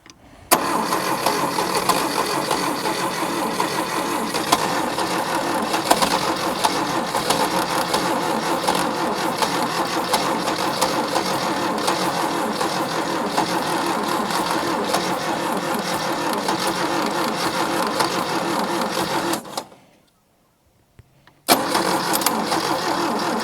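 An 80s Daihatsu 4x4 engine cranks steadily on the starter for a long stretch to fill the carburetor bowls, a loud continuous whirring churn that cuts out briefly near the end, then resumes.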